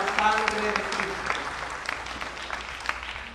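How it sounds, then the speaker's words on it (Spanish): A church congregation at a Corpus Christi vigil Mass applauds children at their first communion, a steady spread of hand clapping filling the room with faint voices and a brief tone near the start. "Vamos a darle un aplauso a estos niños"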